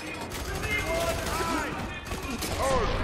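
Sustained gunfire in the video game F.E.A.R. 3, a continuous, dense barrage of shots with ricochet-like whines, loud and steady throughout.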